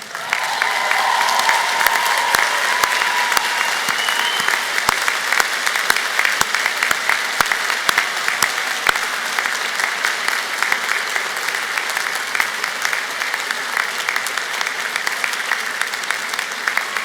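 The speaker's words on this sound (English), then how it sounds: "That was a fairly decent cheer." A large graduation-ceremony crowd at Glasgow Caledonian University claps and cheers for family and friends, with dense, sustained applause and scattered whoops lasting the whole stretch at an even, loud level.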